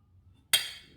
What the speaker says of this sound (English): I did go get a longer glass